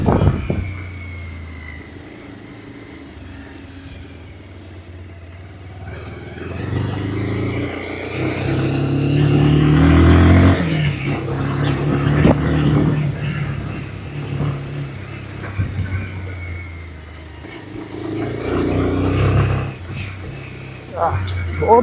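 A 2026 Bajaj Pulsar 180 motorcycle rides along a rough road, its engine droning and swelling as it accelerates, close and fairly loud, with someone talking over it throughout.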